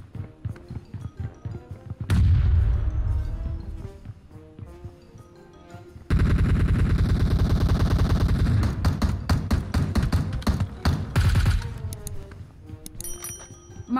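Bombs burst in a video game bombing zone as loud, heavy explosions, one blast early and a long, sustained roaring barrage midway that rumbles on for several seconds before easing, with no voices.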